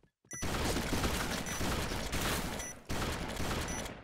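Loud, sustained automatic gunfire from a Cerberus Fire Dragon weapon in a video game, with near-continuous rapid shots broken by brief pauses between long bursts.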